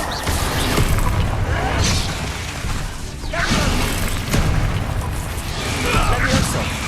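Confringo fire spell explosions in Hogwarts Legacy, dense crackling bursts and booms crowding together amid loud combat noise, near and continuous with repeated surges.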